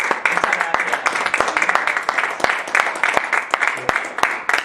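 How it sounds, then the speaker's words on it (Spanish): An audience claps at a local authors' book day event in Almadén, with sharp, distinct hand claps in an irregular rhythm, fairly close and loud, over a bed of softer applause. "pues un aplauso"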